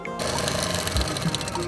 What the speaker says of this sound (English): sew the rod pockets all the way down